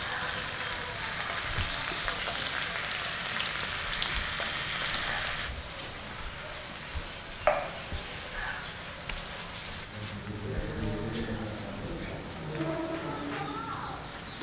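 Onions fry on a tawa in a village-style kitchen, a steady close sizzle and crackle that runs throughout, with occasional soft stirring scrapes and a low background murmur.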